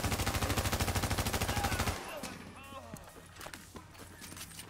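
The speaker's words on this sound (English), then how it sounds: "I'm shooting that little right above you, Jeremy." Automatic gunfire in The Division video game, a loud rapid stream of evenly spaced shots lasting about two seconds, then stopping and giving way to quieter game sounds and chatter.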